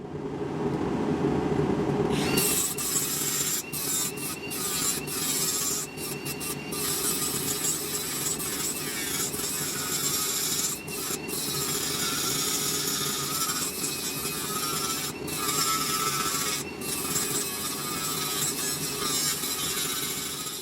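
Metal brackets for mounting a hydraulic ram on a tube bender get cleaned up with a power tool: a continuous harsh grinding whine, close and loud, broken by several brief pauses.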